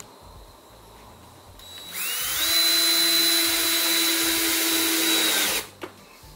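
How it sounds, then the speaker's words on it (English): A power drill drives screws into a wooden archery target box, a steady high whine ramping up after two seconds and running for about three and a half seconds before cutting off abruptly, close and loud with no talk. "So we're drilling in all of the screws now."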